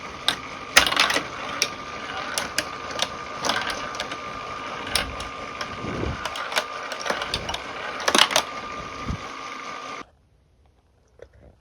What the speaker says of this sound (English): You can also use these lever mechanisms and flippers to not let the ball fall down.